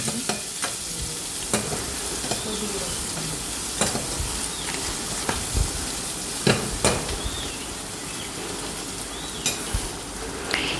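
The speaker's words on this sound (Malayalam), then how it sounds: "നന്നായിട്ടൊന്ന് വഴറ്റാം" Chopped onion and potato being sautéed in a hot pan for sweet corn curry, a close steady sizzle broken by repeated scraping strokes of a spoon stirring every second or so.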